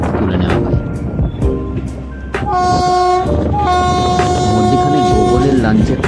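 A long-distance passenger train from Kolkata to Guwahati rumbles loudly and steadily on the rails near Dhupguri station, with sustained horn-like tones and a busy mechanical clatter throughout.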